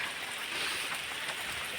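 Rain comes down in a constant soft hiss, even and unbroken throughout.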